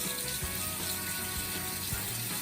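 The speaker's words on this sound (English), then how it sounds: "Just going to rinse this off of my finger." Cold water runs steadily from a tap over a finger being rinsed, a continuous close hiss and splash with faint irregular knocks underneath and no talking.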